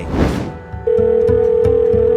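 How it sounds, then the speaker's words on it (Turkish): Telephone ringing in the video game GTA 5: after a short muffled noise, a steady electronic ring tone starts and pulses in repeated bursts, loud and close. "Aç şu telefonu Kyle"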